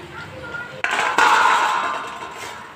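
A spoon stirs fried okra into cooked spice masala in a metal pan, making scraping clinks and a rattling rasp that swells midway and then eases off, with someone talking over it.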